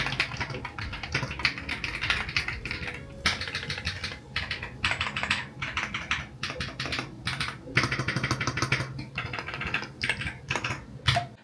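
Fast, steady typing on a new mechanical keyboard straight out of the box, a quiet but continuous stream of clicky keystrokes with no voices.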